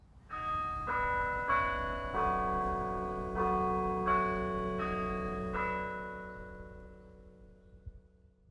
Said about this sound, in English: The melody that our tower plays is called the Westminster Chime.